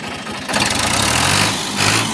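An Al Ghazi 2023 model tractor engine rises from a low rumble into a loud, steady revving roar that holds, eases slightly, and then climbs again over a couple of seconds.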